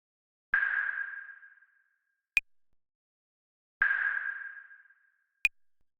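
Claves processed with a pitch shifter, EQ and a transient shaper ring out as two tonal hits with long decaying tails, each followed by a brief sharp click, alone and evenly spaced.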